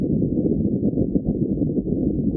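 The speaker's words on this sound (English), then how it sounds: "That's the sound of the Martian wind that was captured by the rover" Wind on Mars picked up by a rover's microphones, a steady low rumbling whoosh with gentle gusting, muffled and dull, continuous and alone.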